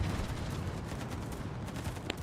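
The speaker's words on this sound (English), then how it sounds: "The Mecklenburg's shooting at me." Naval guns of the warship Mecklenburg boom in a steady, dense barrage during a ship battle video game, with a continuous rumbling roar throughout and no talking.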